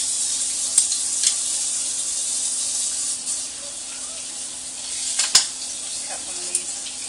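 Minced garlic sizzling in a hot pan for a Brazilian stroganoff, a steady bright hiss with a few small pops and clinks, no talking.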